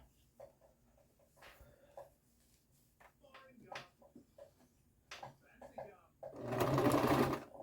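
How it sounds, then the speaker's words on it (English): A sewing machine back stitches at the corner of a pillow made from drying mats, with short quiet stitching bursts and handling noises, then a louder steady run of stitching at the end. "Back stitch at this corner."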